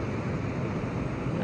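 Ocean waves breaking on a wild coast, a dense continuous wash of surf with wind buffeting the microphone, steady and fairly loud throughout.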